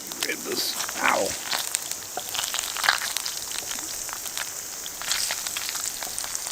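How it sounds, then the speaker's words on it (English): Rain pattering on a tent at a campsite during a heavy storm, a steady fine crackling patter close overhead, with voices talking over it. "Oh my god, it's raining."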